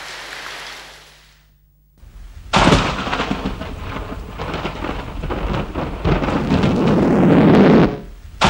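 Heavy rain pours loudly while deep thunder rumbles and rolls through, after a brief quiet gap; no voices.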